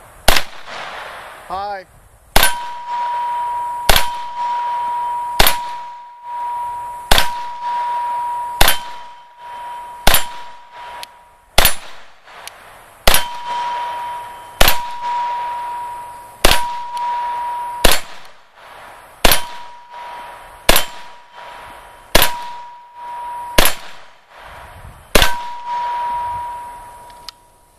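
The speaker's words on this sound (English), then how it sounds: "We're going to put some rounds on target." A CZ Scorpion Evo 3 S1 fires single rounds at an outdoor range, each sharp shot followed by a ringing metallic clang from the struck steel target. About twenty evenly spaced shots come in a steady rhythm, with a person briefly speaking.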